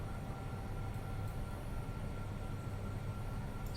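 A steady, low rumbling train interior as passengers reboard after the train's crossing on a ferry boat, with a continuous dull roar and no distinct events.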